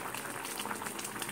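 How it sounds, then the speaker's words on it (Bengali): Chili chicken sauce bubbling in a pan, a quiet dense crackle of small bursting bubbles close by and continuous for a moment. "এই যে ফুটছে"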